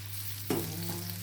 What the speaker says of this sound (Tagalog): Iprito ko muna yung sibuyas para masarap at luto yung sibuyas.